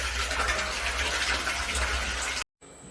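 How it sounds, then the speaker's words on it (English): Process fluid gushes steadily into the jacketed, cooled tank of a cold water extraction system, a continuous loud rushing pour that cuts off abruptly near the end. "process fluid is filling the tank here"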